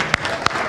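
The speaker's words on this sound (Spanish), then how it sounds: "vamos a dar un aplauso a todos" A church congregation at an Easter Sunday service breaking into applause, a brief burst of clapping with a couple of sharp close claps standing out over the crowd's sound.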